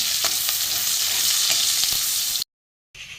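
Chopped garlic and onion fry in a pan over a cumin tempering with a loud, continuous sizzle and repeated stirring scrapes. The sound breaks off into brief silence, then resumes quietly.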